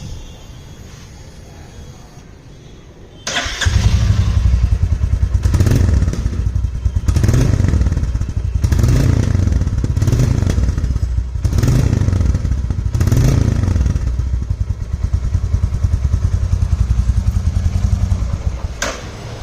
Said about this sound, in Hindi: एग्जॉस्ट का साउंड में भी थोड़ा बदलाव आया है